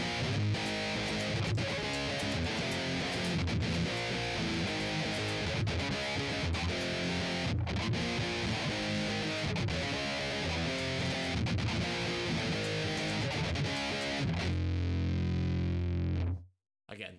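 A heavily distorted electric guitar plays a chugging power-chord riff, loud and continuous with a steady rhythm, before ringing out and cutting off at the end.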